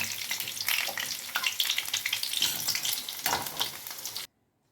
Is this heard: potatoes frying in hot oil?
yes